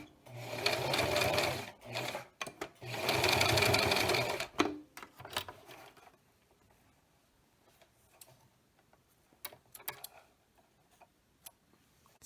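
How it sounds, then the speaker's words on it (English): A sewing machine back stitches a homemade face mask in two loud, close runs separated by a short pause, followed by quieter clicks and handling sounds. "And back stitch a couple times here too."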